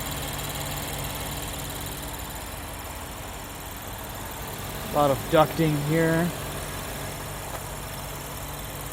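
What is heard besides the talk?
Lexus LC 500 engine idling, heard in binaural audio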